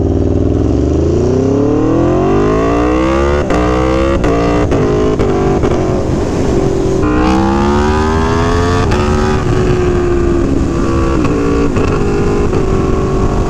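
An Aprilia Tuono V4 Factory motorcycle engine roars loudly up through the revs in a power wheelie, with rising pitch sweeps, brief shift breaks and heavy wind rumble throughout.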